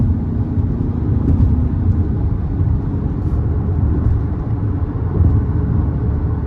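A 2023 Ford Bronco Sport Badlands with its 2.0 turbo engine pulls under throttle, a loud, steady, deep engine rumble heard from inside the cabin, with no talking.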